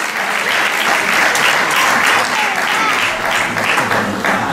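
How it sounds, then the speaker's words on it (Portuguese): Loud, sustained audience applause at a senior carnival dance show, dense clapping from a large crowd filling the space close by for the whole stretch with no letup. "Mais palmas"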